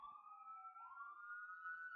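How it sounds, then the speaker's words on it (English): Fire truck sirens wail outside, a distant, fairly faint steady tone that slowly glides upward and holds with no voices over it. "I wonder if this mic can pick up the sirens outside"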